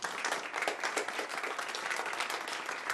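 A small group applauds a woman named Nathalie, a close, lively patter of many hands clapping at an uneven rhythm, heard alone without talk.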